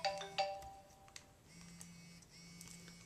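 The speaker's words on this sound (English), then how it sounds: "Sorry, my phone was going off." A mobile phone goes off with short bright electronic chimes and beeps at the start, followed by quieter sustained alert tones and faint clicks, fairly soft and alone.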